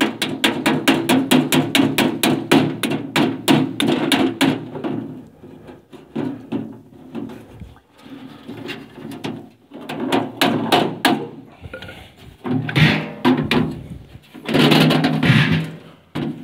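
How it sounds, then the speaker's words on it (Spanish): Rapid metallic taps of a ball-peen hammer striking a rivet, in quick bursts, pausing and resuming several times, close and sharp. "con el martillito le vamos a pegar con la bola"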